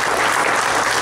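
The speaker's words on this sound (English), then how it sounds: "let's give them a round of applause." Dense, loud applause from a large crowd at a family reunion business meeting, continuous and even throughout.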